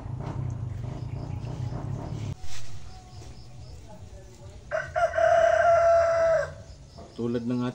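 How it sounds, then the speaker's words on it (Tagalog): Chickens on a Filipino home cooking setting cluck near the microphone, then a rooster crows loudly in one long call, followed by further clucking. "Tuwang-tuwa yung mga manok."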